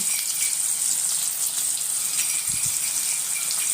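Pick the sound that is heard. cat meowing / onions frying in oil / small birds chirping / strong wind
onions frying in oil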